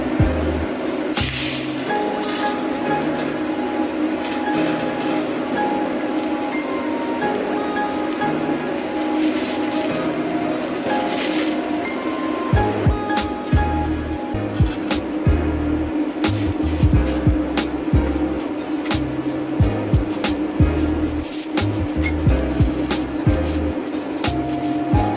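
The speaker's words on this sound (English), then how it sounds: "I'll try to do as much of this cage as I can with TIG." A TIG torch welds a roll cage in a workshop for a twin-turbo LS-swapped Mustang, giving a steady, close-up electric hiss and buzz that runs through the whole stretch with irregular fluttering pulses and a few brief breaks.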